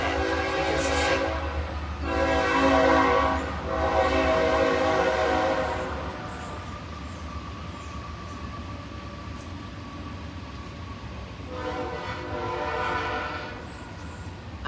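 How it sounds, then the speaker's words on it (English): A train rumbles past at close range, its horn blaring in several long blasts that rise and fade over a steady rolling roar, with no voices. "I try to be wise enough to know that I can't out-talk that train."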